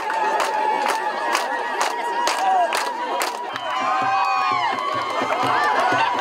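A crowd in Eritrea cheers, led by the U.S. and Canadian ambassadors: a run of rhythmic shouted bursts in a steady beat, then overlapping whoops and high excited calls.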